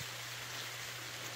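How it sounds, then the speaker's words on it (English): Steady rain falls outdoors, a dense even hiss of drops close around with no break and no voices. "Man, it's raining on me."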